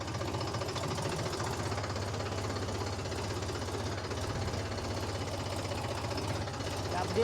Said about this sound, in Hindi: इसमें भी ट्रैक्टर स्मूथली जा रहा है